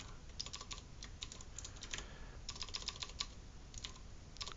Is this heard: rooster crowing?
no